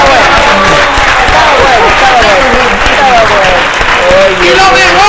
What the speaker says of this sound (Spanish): Bueno, te aplaudamos